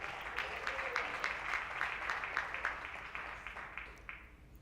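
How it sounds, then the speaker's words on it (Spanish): A church congregation applauds at a sermon, sustained clapping from many hands, steady and fairly distant, tapering off toward the end with no speech over it. "Dele ese aplauso al Hijo de Dios"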